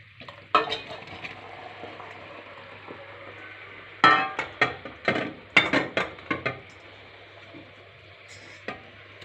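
Boiled rose petals are stirred into simmering sugar syrup for rose jam, giving a series of close spoon scrapes and clinks against the pot over a quiet bubbling background, in bursts with pauses, no talking.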